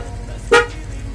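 A motorcycle horn gives one short, loud toot at mid-clip, standing out over a low steady rumble.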